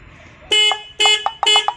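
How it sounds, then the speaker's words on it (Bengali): A car horn honks in three short bursts, loud and close, the later bursts breaking into quick repeated toots with gaps of silence between them. "গাড়ি হর্ন বাজে রে, কি করছিস?"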